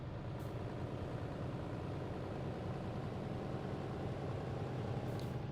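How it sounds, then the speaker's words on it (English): A Scania truck engine in the truck-driving game TruckersMP drones in a steady, low, even hum with no change in pitch, heard alone without talk, with only faint brief hisses near the start and end. "So in swapping the engine, that sounds nice."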